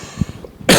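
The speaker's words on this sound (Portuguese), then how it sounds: "Nossa, até tossi" One short, harsh cough from a person, close and loud, coming at the very end after a moment of quiet.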